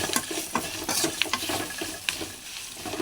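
A spoon scrapes and clacks repeatedly through tempered rice with turmeric and salt in a pan, each stir sounding sharp and close over a soft background sizzle.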